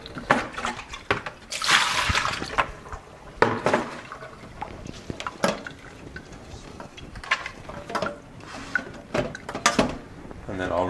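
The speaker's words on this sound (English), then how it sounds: "Just give the bucket a quick rinse." Water sloshing and splashing as a bucket is quickly rinsed while growing microgreens, choppy bursts of pouring and swirling with knocks of handling, close by.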